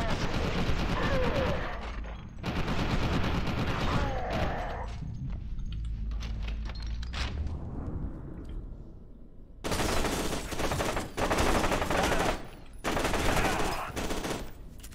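Rapid bursts of weapon fire while running through a firefight in F.E.A.R. 2, loud, repeated volleys separated by brief pauses, mixed with voices talking.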